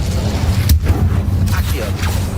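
The Incendio fire spell in the game Hogwarts Legacy gives a sharp, punchy burst followed by rumbling, crackling thumps. The sounds are loud and close over a low, continuous background.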